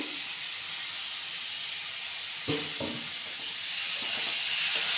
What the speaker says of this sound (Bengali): ভালো করে কষিয়ে নেব, আর এবার সিদ্ধ করে রাখা ডুমুরগুলোকেও দিয়ে দেব।